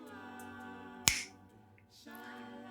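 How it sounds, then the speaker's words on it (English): A single sharp finger snap, crisp and compact, cutting briefly over a quiet sustained tone. "The sound of a finger snap is like very compact and nice."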